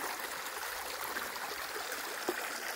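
A countryside river flows quietly in the rural province, a soft, steady wash of moving water heard faintly at a distance with no voices.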